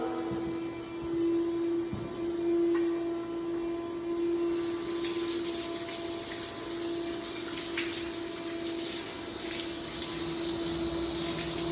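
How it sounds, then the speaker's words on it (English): Running water rinsing a dirty filter from a domestic pump, a steady splashing gush with a constant motor hum underneath, brightening partway through. "And I'm just simply going to wash this filter out."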